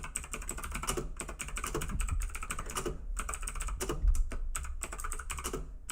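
Typing on a computer keyboard: steady, close clatter of keystrokes in quick irregular bursts with brief pauses, heard alone with no talk.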